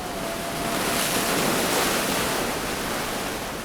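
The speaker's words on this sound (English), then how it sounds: "The stormy darkness and rolling crash of the waves is all that can be heard" Stormy ocean waves crash and roll onto Piha beach, New Zealand, at night. They make a continuous loud roar of surf mixed with wind, with no voices.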